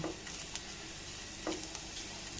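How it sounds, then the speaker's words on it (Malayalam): Grated coconut with curry leaves roasts in a pan over a low to medium flame, giving a soft, continuous sizzle with a couple of light stirring scrapes. "ലോ ടു മീഡിയം ഫ്ലെയിമിൽ വെച്ച് നമുക്കിത് വറുത്തെടുക്കാം"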